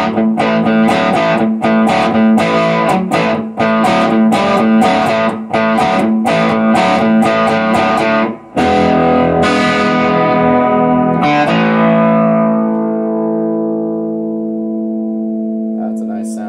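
A Fender Player Plus Nashville Telecaster played through a Nu-X Horseman overdrive pedal into the blues-breaker side of a Browne Amplification Protein amp: loud, driven chords strummed in a steady rhythm, then a final chord left ringing and slowly fading.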